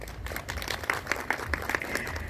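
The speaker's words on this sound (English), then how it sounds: "Please clap for yourselves." Audience applauding at an AMWIK meet-and-greet event in 2023, a faint, distant patter of scattered hand claps in a hall, continuing evenly for a couple of seconds.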